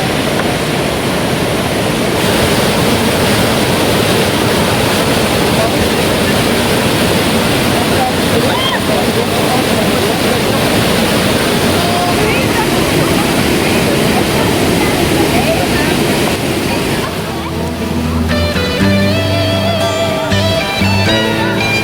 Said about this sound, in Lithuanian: 250 metrų krioklys.